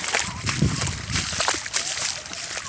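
A dog wading and splashing through water at a park, with repeated sloshing and splattering close by and mixed with background voices.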